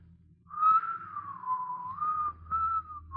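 Willie whistles a tune, a clear, close melodic whistle with gliding pitch and short breaks between phrases over a quiet room background.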